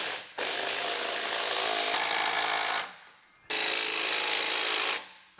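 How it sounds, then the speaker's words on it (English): Power tool tightening bolts on a car differential, two sustained whirring bursts of about two and a half seconds each, loud and close, separated by a short pause. "I think I'm just going to tighten these bolts and hope for the best."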